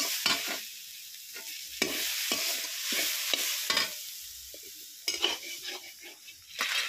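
Grated coconut frying in a pan for suji and coconut ladoo, a continuous sizzle broken by repeated scraping strokes of a spatula against the pan, close and alone.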